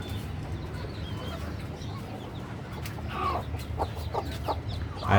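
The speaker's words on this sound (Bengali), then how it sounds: "এই যে এখানে ডিমের মুরগিগুলো আছে" Laying hens kept on a rooftop cluck in short bursts near the end, over a steady background murmur, with the last few calls loud and close.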